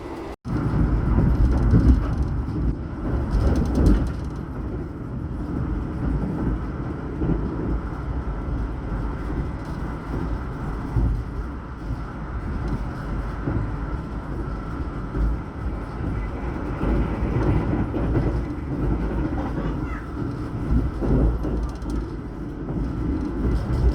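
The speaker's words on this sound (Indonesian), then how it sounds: "barusan tadi kereta api Argo Dwi Pangga melintas langsung stasiun Kutoarjo. Ngebut banget" The Argo Dwi Pangga express train passes straight through Kutoarjo station at high speed, a sustained loud roaring rumble of wheels and rushing air heard from aboard another train, steady throughout.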